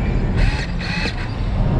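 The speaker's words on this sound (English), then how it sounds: "Just like close the door and then walk out again." A door is closed and opened again on a street, giving loud mechanical creaks and clunks in a few quick bursts over steady outdoor background noise.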